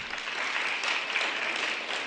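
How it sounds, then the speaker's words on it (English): A crowd at a youth poetry and dance performance claps steadily to vote for a performer, dense even applause at moderate distance with no pauses or talk. "By a round of applause, who thinks that the D-Money, the one with the hat on, did a better job for HIV testing?"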